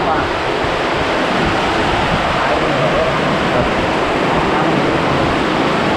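Heavy rain pours down in a steady, dense roar while gusts of wind buffet the microphone throughout.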